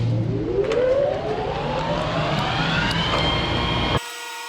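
A lathe motor spins up while turning a part round in a home workshop, its whine climbing steadily in pitch over a loud, continuous machine roar before cutting off abruptly near the end.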